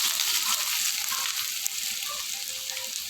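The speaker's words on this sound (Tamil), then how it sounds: "இப்போ எண்ணெய் நல்லா காஞ்சிச்சு. இது கூட வெங்காயம் ஆட் பண்ணிக்கலாம்." Onions frying in hot oil in a pan, a steady close sizzle with small crackles and faint stirring scrapes, with no voices.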